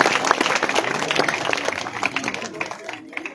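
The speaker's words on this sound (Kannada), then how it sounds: "ಜೋರಾದ ಚಪ್ಪಾಳೆಗಳನ್ನ" Loud, sustained applause from an audience at a village felicitation ceremony, dense and continuous for a few seconds before tapering slightly, with some voices mixed in.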